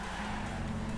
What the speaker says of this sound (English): you can hear a lot of tire squeal in the background